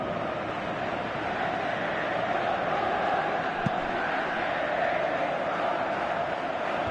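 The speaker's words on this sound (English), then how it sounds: "you can feel and hear how the crowd are reacting to all of this" A large stadium crowd in a football video game roars steadily throughout, a dense wash of cheering and chanting with no pauses.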